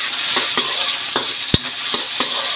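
Pakbet vegetables frying all at once in hot oil, a loud, continuous sizzle close up, broken by several sharp scraping stirs and one heavier clatter.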